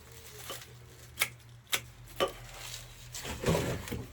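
Paperwhite plant stems being cut off in a greenhouse: three sharp, distinct snips spaced about half a second apart, followed by a softer cluster of clicks and rustling, with a low steady hum underneath.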